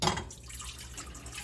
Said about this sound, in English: Whoops, as I spill some there.